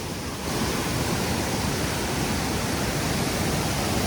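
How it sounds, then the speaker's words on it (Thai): Fast-moving, muddy flash-flood river water roars steadily and loudly at close range, a dense, continuous rushing wash with no voices. "อันนี้คือน้ำป่าเลยนะครับ"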